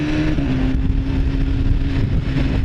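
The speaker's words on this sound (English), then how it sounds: "that's the auto blipper on the downshift, so you just shut the throttle and there it is" A 2015 BMW S1000RR sport motorcycle blips its engine on an auto-blipper downshift, a loud, steady, close-up engine note with a brief rev change near the start and wind noise throughout.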